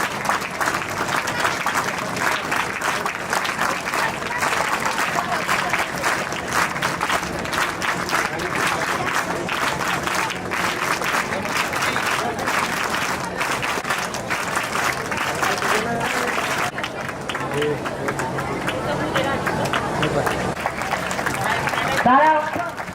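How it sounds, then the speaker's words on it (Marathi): An audience at a gathering claps loudly and continuously, a thick crackling roar of many hands that keeps up for over twenty seconds, while a voice talks over it near the end. "बघू टाळ्या हरतेत का वाजवणारे हरतेत, जोरात आणखी जोरात."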